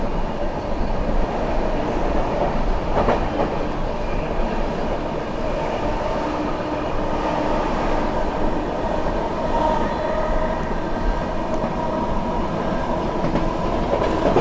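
Prayagraj Express running through Firozabad station without stopping, heard from aboard as a steady loud rumble with rhythmic wheel clatter and occasional jolts over track joints, continuous throughout.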